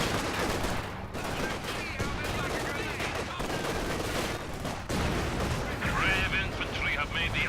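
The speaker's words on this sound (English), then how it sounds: "Our headquarters is taking enemy fire." Enemy fire pounding a headquarters in the Company of Heroes 2 war game: a steady dense barrage of artillery and gunfire rumbling continuously, with radio-style game voice lines over parts of it.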